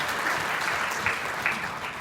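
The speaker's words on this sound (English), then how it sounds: "Give the Georgia Asian Times a big round of applause." Audience applause at an awards event honoring influential Asian Americans in Georgia, a steady two-second wash of clapping at moderate level with no voices over it.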